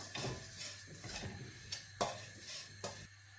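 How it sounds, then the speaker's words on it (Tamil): Semolina dry-roasting in a pan, stirred with a spoon: quiet scraping strokes and a few sharper clinks of utensil on metal at roughly second-long intervals, faint and close, with no talking. "ஒரு அஞ்சு நிமிஷம் இந்த குருணலை நாங்கள் வறுத்து எடுத்துக்கொள்ளுவோம்"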